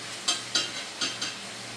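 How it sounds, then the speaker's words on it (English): Oil sizzles and spits in brief bursts as food is tossed in a pan, four sharp crackling surges over a quiet hiss. "the oil and everything was frying up at the same time"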